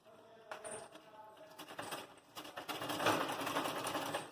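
A sewing machine stitches fabric for a small Tulsi Maharani skirt, beginning with quiet handling and then a rattling mechanical whir that builds and stays loud and close toward the end.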